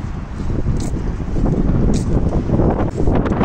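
Steady gusting wind in light drizzle buffets the microphone with a loud, rumbling roar throughout, with no voices.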